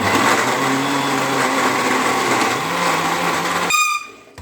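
A blender whirs loud and steady as it blends a mango milkshake with added ice, its motor roaring continuously for nearly four seconds before cutting off abruptly.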